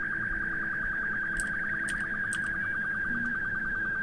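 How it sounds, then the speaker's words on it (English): A warning alarm in Kerbal Space Program beeps as a steady, high, insistent tone pulsing rapidly without pause across the whole stretch, loud against a low rumble, with a few brief sharper chirps. "Alright, stop beeping at me, God's sakes."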